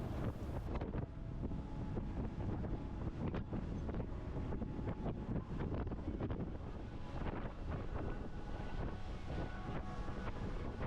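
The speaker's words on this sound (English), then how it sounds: "It was about a 20-minute boat ride" Steady wind buffeting the microphone over the constant drone of a boat moving across water off Grand Cayman, with occasional splashing throughout.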